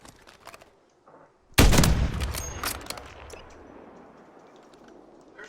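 Sniper rifle fired in a multiplayer video game's plunder mode: a single loud, sharp shot after a quiet moment, followed by a long ringing decay and rumbling tail, with faint game noises before it.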